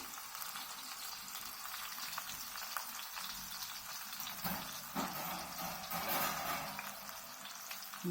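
Carrot, ginger, onion and green chili pieces fry in hot oil for upma, giving a steady, close sizzle with a brief clatter of stirring midway. No one speaks.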